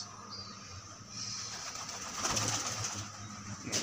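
A pigeon coos in a few soft, throaty bursts close by, with a low background hum and faint rustling between calls.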